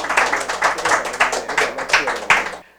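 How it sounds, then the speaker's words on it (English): Applause from a school audience at a junior science quiz, a modest group clapping in fairly regular, close pulses for a couple of seconds before stopping abruptly. "Give them a round of applause."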